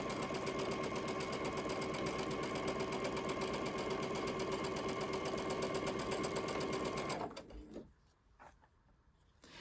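A sewing machine stitching quilt fabric in one long, steady, close run of fast even whirring that stops abruptly near the end, followed by quieter handling clicks.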